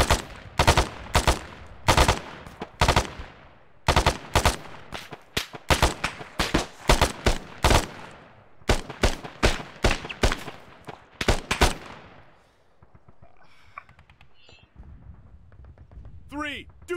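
Rapid bursts of automatic rifle and machine-gun fire from an infantry squad in ArmA 3, loud and close, in clustered volleys for about twelve seconds before dropping to quieter background noise and a distant tonal sound.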